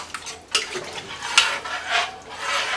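A spoon stirs tomato gravy in a pot after water is poured in, giving scraping, clinking strokes against the pot in a loose, uneven rhythm, moderately close with no voices.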